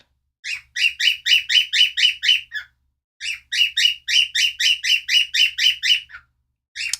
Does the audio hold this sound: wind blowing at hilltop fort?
no